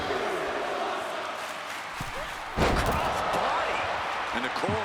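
A cross-body slam in a WWE video game lands as a sharp thud over a steady crowd roar, with a commentator's voice talking throughout.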